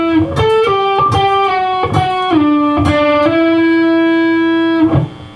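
An electric guitar plays a short lick of picked notes that slide between pitches, ringing with a bright sustained tone, alone and close.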